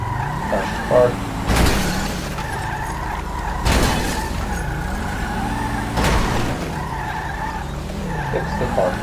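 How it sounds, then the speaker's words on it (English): Car crashing and tyres skidding in the video game GTA FiveM: several sharp impact bursts a couple of seconds apart amid squealing tyres and engine hum, with someone talking in between. "Crash the car."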